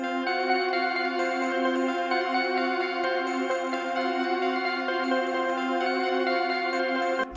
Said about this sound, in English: So a very good example of this would be this ARP, but with this patch playing like 1 octave down.